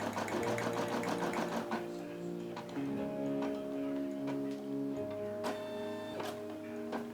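A Brother SE600 embroidery machine stitches a logo, its rapid needle chatter running at a steady mechanical pace with tonal whirring that shifts pitch as the stitching changes.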